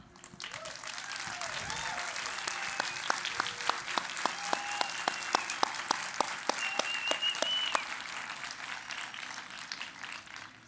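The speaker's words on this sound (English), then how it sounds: "could you please stand for a round of applause?" An audience at the Akron Roundtable State of the City 2025 event gives a round of applause for city employees, with steady dense clapping across a large hall and a few sharper individual claps standing out throughout.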